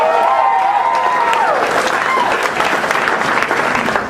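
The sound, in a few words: audience applause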